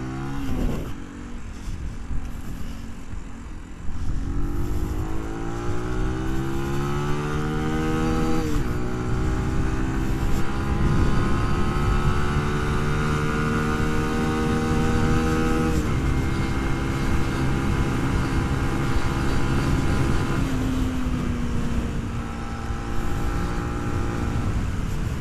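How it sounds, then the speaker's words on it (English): A motorcycle ridden hard up through every gear, its engine note climbing in repeated rising sweeps that drop back at each shift; loud, close and continuous, with no talking. "I'm going to go through all the gears because I've not rode the bike for 2 weeks now."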